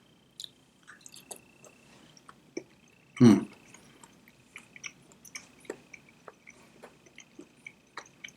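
Crunchy baked tofu served with broccoli and shiitake mushrooms is chewed close up, with soft wet crunches and squishes scattered irregularly throughout and one louder bite partway through.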